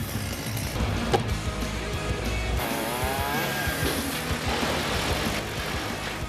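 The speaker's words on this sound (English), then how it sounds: "First, the smaller limbs are cut from the tree." A chainsaw cuts the smaller limbs from a silver maple tree, its engine droning and revving at a moderate distance with rising and falling pitch sweeps throughout.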